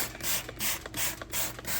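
Spray bottle misting OxiClean generously over a purse, about five evenly spaced trigger pumps, each a close, bright hiss with a faint click, no talking.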